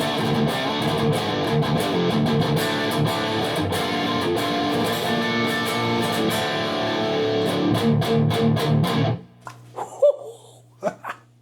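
Tightly muted, chugging distorted electric guitar plays a fast rhythmic riff for most of the stretch, then cuts out, leaving a few faint scattered noises.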